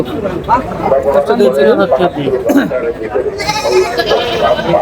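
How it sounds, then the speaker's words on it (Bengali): Native-breed goats bleat repeatedly at a busy livestock market, their calls rising over constant crowd chatter and nearby voices. "এখানকার যে সকল ছাগল রয়েছে দেশি জাতের ছাগল সবই দেখতে পাচ্ছেন"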